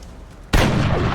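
A single loud gunshot from the turn-based strategy game XCOM Long War bursts in after a quiet half-second and keeps ringing with a heavy, sustained rumble to the end.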